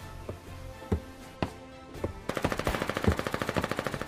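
A machine gun fires in the war video game Foxhole, a few scattered shots at first, then a rapid sustained burst of evenly spaced rounds, moderately close.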